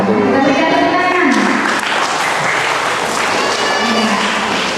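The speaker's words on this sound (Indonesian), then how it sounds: "Kita berikan tepuk tangan" Wedding guests applaud at a reception in Loa Janan Ilir, a loud, dense wash of clapping mixed with crowd chatter and voices all the way through.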